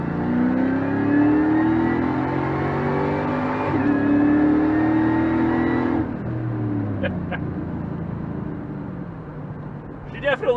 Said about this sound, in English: We'll hit it from about a 30 roll here in second gear.